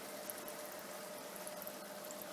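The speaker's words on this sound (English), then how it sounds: "Much more bubbles than before" Steady fizzing stream of fine bubbles from an aquarium air stone after soaking in vinegar, a continuous close hiss with light bubbling and no talk.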